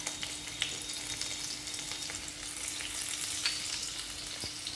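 Garlic and chili sizzling in a spoonful of hot oil for noodles, a steady close frying crackle with a few sharp spatula clinks and no voices.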